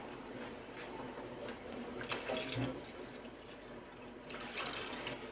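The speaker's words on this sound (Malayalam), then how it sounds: "ഇനി ഇതിലേക്ക് 2ാം പാല് ഒഴിച്ചു കൊടുക്കാം." Second coconut milk is poured into a simmering Kerala lentil payasam with a quiet, steady trickle. The faint pouring rises slightly in the middle and again near the end.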